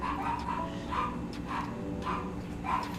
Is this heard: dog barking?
yes